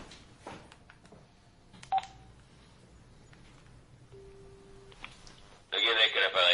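A telephone is dialed in a quiet room, a short run of distinct keypad tones ending in a loud, sustained burst of dial or ringing tone, with faint background noise and no clear talk.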